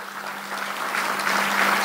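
An audience claps in a formal ceremony hall, a moderately loud wash of applause that swells slightly toward the end, with a steady low electrical hum running underneath.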